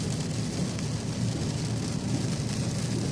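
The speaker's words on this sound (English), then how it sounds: "I think it's raining just like this." Steady rain pours down through a storm, a dense, even hiss that stays constant and fairly loud the whole time, with no voices and no distinct thunderclaps.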